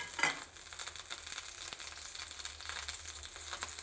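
Onions, dried red chillies and mustard seeds frying in oil for senagala charu, a quiet steady sizzle with small pops and a brief crackle near the start.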